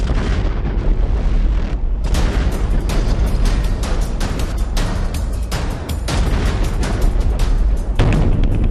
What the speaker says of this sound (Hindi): ये धमाके यूक्रेन की नियति हो चुके हैं।